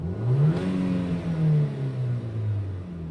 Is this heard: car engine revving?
yes